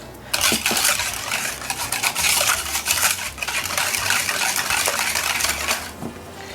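A utensil clinks and scrapes steadily against a bowl while sugar is whisked by hand to dissolve it, a near, continuous run of light metallic taps and scrapes with no talking.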